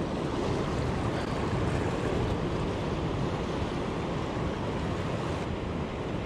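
Steady, loud roar of waves and white-water surf along a Southern California shore, heard while fishing for spotted bay bass, with light breeze noise and no talk.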